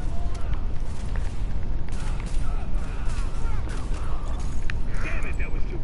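Gunfire from Tom Clancy's The Division video game rattles in dense, overlapping bursts against a busy, loud combat backdrop, with sharp reports scattered throughout.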